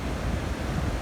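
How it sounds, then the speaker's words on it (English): Big ocean waves and gusty wind at a blown-out beach at San Buena Ventura, a continuous low rumbling wash with heavy wind buffeting the microphone, loud and close, no talking. "It's a little on the windy side right now. The waves are kind of big."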